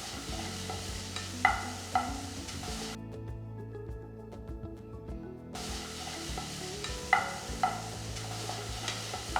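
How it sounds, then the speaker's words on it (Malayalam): Egg being stirred into the filling mixture for unnakaya, Kerala's stuffed plantain snack, with brisk scraping and stirring strokes and light sizzle-like textures, broken by a short quiet gap in the middle. "മുട്ടയിട്ട് നന്നായിട്ട് മിക്സ് ചെയ്യുക."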